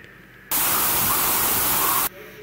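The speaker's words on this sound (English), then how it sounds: "Sorry for that white noise that you all would have just heard." A studio sound button blasts loud, steady white noise for about a second and a half, cutting in and out abruptly against a quieter room background.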